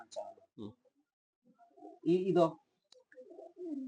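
A fancy-variety pigeon coos in short, low rounded bursts, the loudest near the middle, with quieter murmurs and someone talking in the background.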